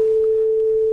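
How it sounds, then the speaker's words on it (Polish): A tuning fork mounted on a quarter-wave resonance box rings with a single steady, pure tone held at constant loudness throughout. "Ale też kamertony te brzmią całkiem inaczej."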